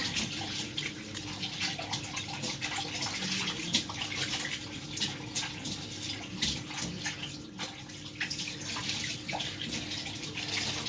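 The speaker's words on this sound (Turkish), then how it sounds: "Ellerini yıka." Hands washed under a running tap at home, a steady close rush of water with small splashes that continues for about eleven seconds.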